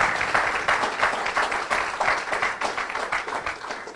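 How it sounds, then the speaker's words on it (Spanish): A church congregation claps for the Lord during a pastor's sermon, a steady mid-level burst of many hands with a loose, uneven rhythm that holds for several seconds. "That strong applause to the Lord."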